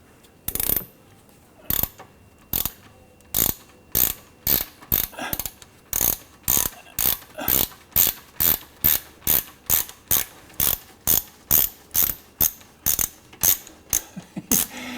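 A ratchet wrench fitted with a socket clicks in a steady run of about twenty sharp, evenly spaced ratcheting bursts, loud and close with no talk, during rear end and manual transmission fluid work.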